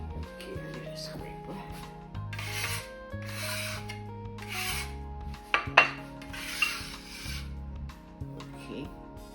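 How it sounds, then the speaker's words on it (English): Cheddar cheese is grated by hand in rhythmic scraping strokes, about one per second, close up, with steady background music playing underneath. "now I'm grating some cheddar cheese for later to top the potato"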